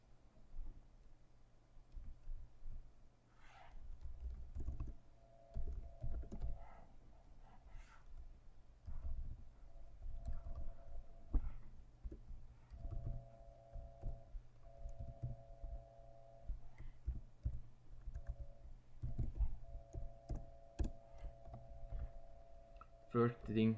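Keys clack steadily as DHCP server configuration is typed on a computer keyboard running Ubuntu, a continuous quiet run of close clicks over a low hum.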